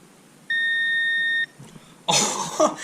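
Weather radio gives a single steady electronic alert reminder beep lasting about a second, followed by a throat clearing and cough close by.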